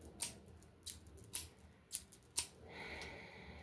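Scissors snip crisply about five times in an irregular rhythm, close and fairly quiet, followed by a brief soft rustle.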